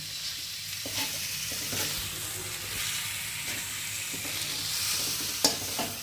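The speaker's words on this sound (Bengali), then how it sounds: "এবারে নারকেল দেবার পর চিংড়ি মাছগুলোকে একটু নারকেল দিয়ে কষে নিচ্ছি।" Prawns and grated coconut sautéing in a pan for a prawn curry, a steady close sizzle broken by repeated scraping stirs and one sharp clink near the end, with no talking.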